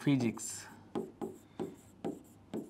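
Pen or pencil scratches on notebook paper in a physics lesson, a voice speaking briefly at the start, then five short evenly spaced strokes, close and quiet.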